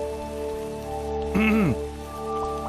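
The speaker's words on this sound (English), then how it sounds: "It's raining. This is good. Good this planet has rain." Rain falls on a planet in a video game, a soft, even patter running under sustained game music tones, with one brief sweeping electronic tone rising and falling midway.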